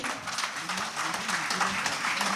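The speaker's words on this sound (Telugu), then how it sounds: "ఒకసారి గట్టిగా క్లాప్స్ కొట్టాలి." Audience clapping at a school alumni reunion, a continuous patter of many hands applauding together for a couple of seconds, with some voices beneath.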